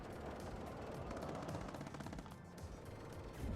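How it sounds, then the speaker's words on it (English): Rapid machine gun fire in the WARNO strategy game, a dense continuous rattle of bursts that stays fairly loud throughout the short stretch, with no talk over it. "It's about to get killed by the machine gun."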